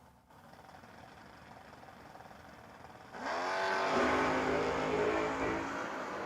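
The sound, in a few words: drag race cars launching, 1979 Camaro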